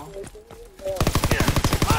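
Rapid automatic gunfire from a weapon in Call of Duty: WWII, a dense run of about a dozen quick loud shots in the second half after a quieter stretch with a voice.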